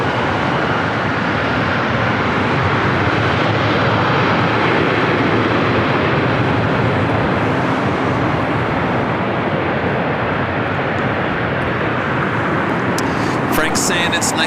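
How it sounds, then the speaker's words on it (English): An Emirates airliner on approach to land at LAX, coming straight in from the east, gives a loud, steady jet roar that fills the whole stretch and stays at a constant level. "Today Emirates is flying straight in from the east."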